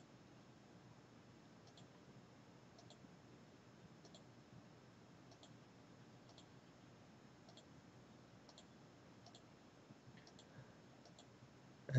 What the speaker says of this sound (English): shift and clicking my middle mouse button